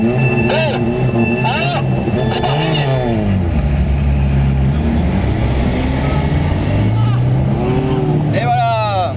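Peugeot 206 engine revving hard while driving through desert sand, loud and close with rising and falling pitch as it accelerates, under a steady roar; voices talk over it.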